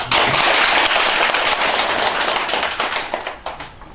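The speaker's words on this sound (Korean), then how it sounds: "박수 한번 쳐주세요" A Buddhist temple college class bursts into loud, dense applause for a laywoman being introduced. The clapping is sustained and then thins into scattered, separate claps toward the end.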